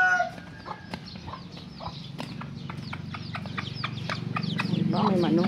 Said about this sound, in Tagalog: Diba, may manok.